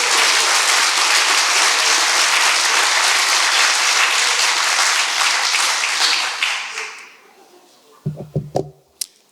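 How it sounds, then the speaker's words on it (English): Loud, dense applause from the audience at a campaign launch celebration for distinguished guests, sustained for about six seconds before fading, followed by a few scattered knocks and taps. "Please offer all of our distinguished guests a big round of applause."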